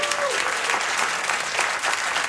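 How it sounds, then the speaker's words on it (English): A studio audience at a late-night talk show applauds in a steady, dense wash of clapping that holds at full strength from start to finish. "Listen to the applause."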